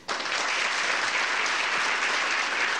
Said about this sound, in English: let's give one more round of applause to all the great participants here in the 2008 All-Zone team